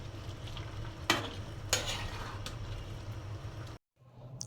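A vegetarian dish of gourd, potato, eggplant and masoor lentils sizzles softly while being stirred, two sharp scraping clatters standing out, then a brief cut to silence before the quiet frying returns.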